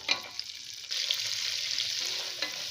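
Carrots and shelled peas sauté in a pan as part of a paneer biryani, a steady close sizzle with occasional stirring clinks, the frying hiss swelling louder after the first second and holding without talk.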